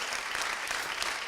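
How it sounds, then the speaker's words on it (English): A crowd claps loudly at a political talk on the Electoral College and the national popular vote, with sustained, dense applause that stays even and close the whole time and has no speech over it. "we get to clap for that right now, really loudly"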